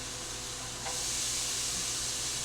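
Steady broadband sizzle of onions and peppers frying in a pan, close and fairly loud, a continuous hiss with slight crackle and no talking.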